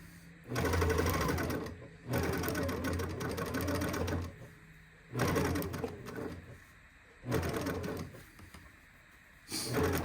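A sewing machine stitches binding around the edge of a pillowcase in four loud bursts of rapid running, separated by short pauses with low background noise.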